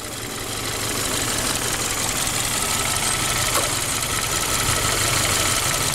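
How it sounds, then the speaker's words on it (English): A Hyundai Veloster with a failing engine idles roughly under the hood, a loud continuous close-up rumble with a slight knocking texture that holds steady throughout, with no talking. "See, it's not idling right. It's just speeding up and slowing down."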